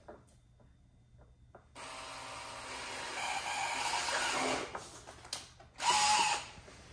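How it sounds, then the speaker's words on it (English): A power drill with a 5/16 bit bores holes in a Toyota 4Runner's rear mud flap, whirring up to a steady run at close range. It stops briefly, then revs again in a short second burst. "I'm gonna be using a 5/16 drill bit. That's pretty much the exact same size as the OEM holes in the mud flap."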